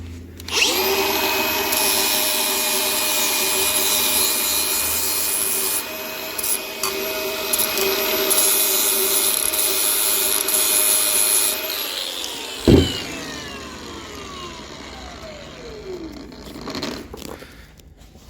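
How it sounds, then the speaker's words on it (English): An angle grinder whines loud and close as it grinds along the sides of a steel truck frame for a rollpan hitch, a long steady shriek that cuts off and winds down, followed by a sharp metallic knock. "Now we're gonna go down all the sides with a grinder, get that all nice and cleaned up"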